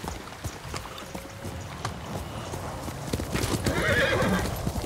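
Horse hooves clip-clop at a gallop with a whinny near the end, from a horse ridden in the samurai video game Ghost of Tsushima, close and fairly loud over game ambience.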